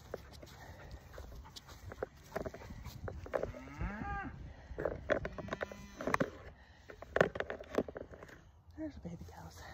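Several calves moo at moderate distance amid farmyard noise, with a person talking nearby and occasional clatter.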